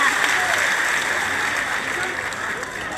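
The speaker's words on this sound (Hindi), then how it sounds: "सबके लिए जोरदार ताली बजा दो पूरे मंच के लिए।" A large crowd claps loudly at a political rally in Multai, a dense continuous wash of applause filling the whole short stretch with no pause.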